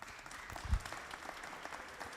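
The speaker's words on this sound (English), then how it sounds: "let's give our mayor a round of applause" An audience at a community gathering applauds the mayor, a continuous patter of clapping at moderate loudness with one heavier thump partway through.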